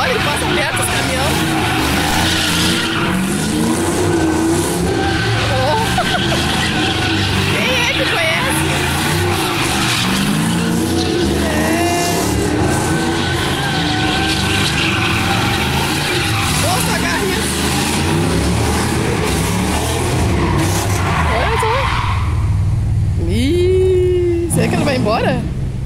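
A car's tires squeal and skid on the ground near a truck, the noise running continuously under excited Portuguese talk from nearby onlookers.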